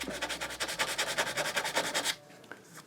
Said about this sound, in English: So I just want to bevel this side a little bit.